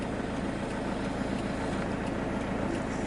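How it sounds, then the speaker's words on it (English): A boat engine runs steadily and close by, a continuous low droning rumble with no break, while the boat travels along a flooded area lined with houses on stilts. "Engine's running, so sorry for the noise."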